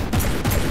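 A gun turret in the naval combat game From The Depths fires a rapid burst, two dense crackling volleys of shots in under a second, loud and close with no talk.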